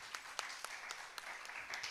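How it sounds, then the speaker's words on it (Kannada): Audience applause for a father and son at a Veda recitation event, faint scattered clapping with a few distinct sharp claps, heard from a distance. "ತಂದೆ ಮಗನಿಗೊಂದು ಜೋರಾದ ಚಪ್ಪಾಳೆ"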